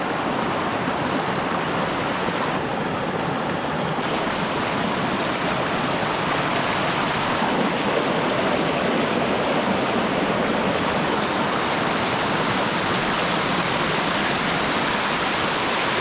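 A mountain river in New Zealand rushes steadily nearby, a dense, continuous roar of flowing water with no pauses, loud and close throughout.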